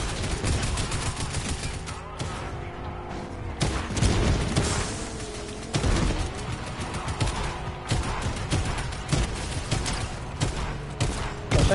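Rapid video game gunfire in a vehicle combat game using nitro, loud and dense bursts of shots and booms repeating throughout with brief gaps, under a steady engine-like roar.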